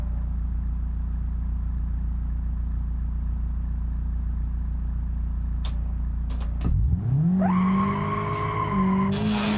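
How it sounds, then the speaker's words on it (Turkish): A car in BeamNG.drive idles with a steady engine drone, then tires squeal loudly and the rubber burns as the engine revs up, wavering pitches screeching for several seconds. "Lastik yaka yaka hadi bakayım."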